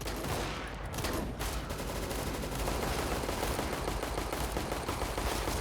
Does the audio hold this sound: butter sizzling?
no